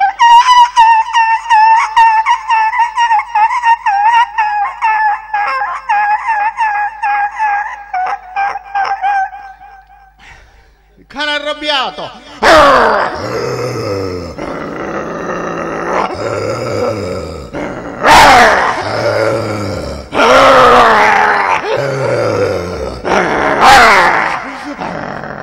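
A voice imitates a beaten dog, starting with a long sustained whining tone, then breaking into a run of loud pained yelps and groaning cries, close to the microphone during a comedy show.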